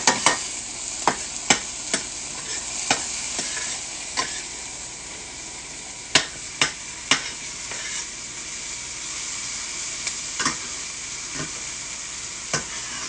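Garlic sizzles in a pan for homemade marinara sauce, a steady close frying hiss broken by repeated sharp scrapes and clicks of a utensil stirring, with no voices.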